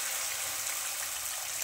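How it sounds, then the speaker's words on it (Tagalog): Water is poured into a pan while cooking pancit gisado: a steady, soft rushing hiss close by, continuous and unbroken, with no voices. "Lagyan natin ng tubig."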